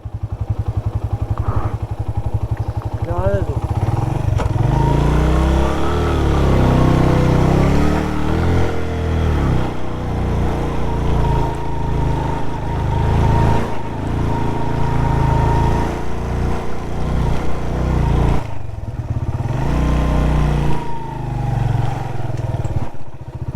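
Motorcycle engine running steadily and loudly up close on a cold desert road in Basho Valley, with rough revving surges and rattling clatter throughout, no talk over it.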